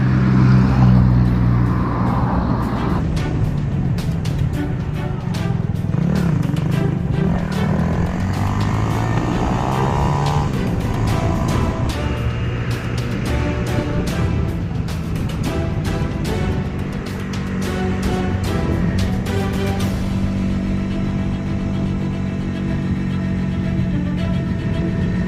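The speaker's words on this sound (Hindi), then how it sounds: "यहाँ से गाड़ी आ रही है" A car approaches along a road near Bhuttri Dam in Haripur, Pakistan, its engine a continuous loud drone with shifting pitch and clattering mechanical detail throughout, and no talking.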